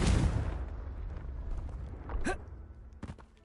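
A Confringo blasting spell goes off in Hogwarts Legacy as a single loud, close explosion with a sharp onset that fades into a rumbling tail, followed by a few faint thuds and clicks.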